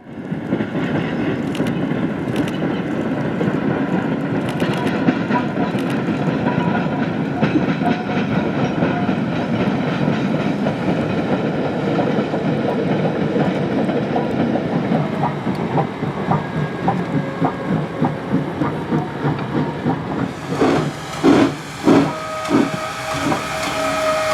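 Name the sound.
Woodstown Central Railroad No.9 steam train running in rain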